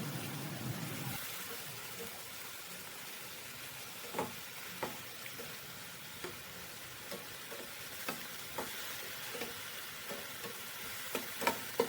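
Chopped tomatoes sizzle softly in a pan on medium flame, a faint steady hiss broken by small periodic clicks and taps of stirring, with no talking.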